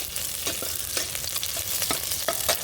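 Garlic fries in hot oil for Andhra-style pappu sambar, a dense, steady sizzle broken by scraping stirs of a spatula against the pan, close and fairly loud.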